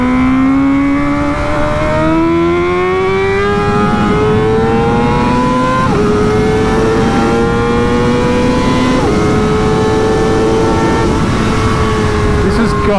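A race-prepped Graves Motorsports Kawasaki ZX-4RR motorcycle on a ride: loud, continuous high-revving engine whine that climbs steadily and drops at each of several gear changes, heard from on board.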